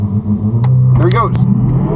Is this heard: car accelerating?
yes